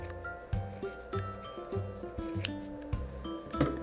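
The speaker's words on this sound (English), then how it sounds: "or you could put your scissors through" Scissors snip repeatedly through material while making a DIY carrot chew toy for small pets, several crisp cuts in an irregular rhythm, close and clear.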